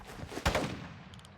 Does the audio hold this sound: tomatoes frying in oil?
no